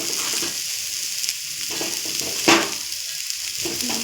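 Onions fry in a pan with a close, steady hiss and sizzle, with a sharp scrape of stirring about midway and no talking.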